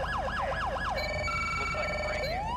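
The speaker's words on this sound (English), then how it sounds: "And it does go with the sirens." A police car siren in the video game GTA 5 with the LSPDFR mod wails in rapid rising-and-falling sweeps, then shifts to steady electronic tones and a yelping rise, loud and close with no talking.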